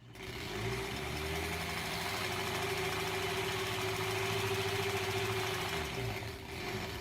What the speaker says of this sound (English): I'm gonna just kind of sew off the edge a little bit here.